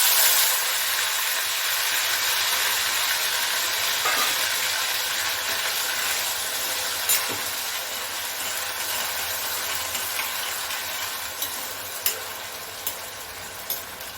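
Potatoes tossed into a pan of cumin seeds for sabudana khichdi, a steady loud sizzle and hiss of frying with a few small clicks and taps of stirring near the end, no voices.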